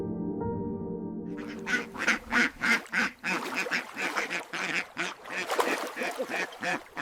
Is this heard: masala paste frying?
no